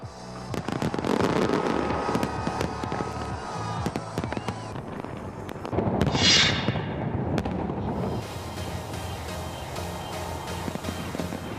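New Year fireworks at Berlin's Brandenburg Gate burst and crackle continuously, with sharp pops and rumbling booms layered over a steady crowd-like roar, loud and sustained.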